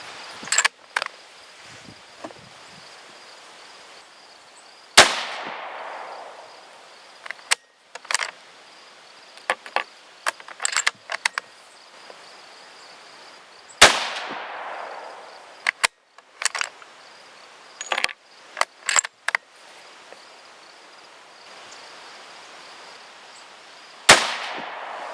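.223 Remington rifle handloads with D4064 powder are fired over a chronograph. Three loud, sharp shots come roughly ten seconds apart, each with a trailing echo, while insects chirp and small clicks fill the gaps.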